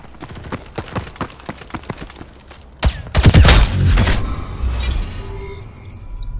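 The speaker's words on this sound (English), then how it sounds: "The enemy is using an arm launcher." An enemy arm launcher fires in the Ghost in the Shell game, a rapid train of sharp clicking shots followed by louder bursts and crashing, rumbling impacts with lingering debris and hum.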